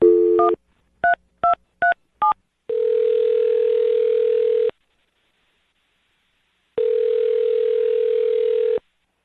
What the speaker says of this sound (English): dial her phone number right now